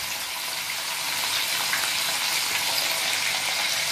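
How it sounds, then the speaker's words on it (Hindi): Paneer fries in a hot pan with a steady, soft hiss of sizzling oil, a continuous crackle that holds at a moderate level with no voices over it. "ये जब तक फ्राई हो रहा है"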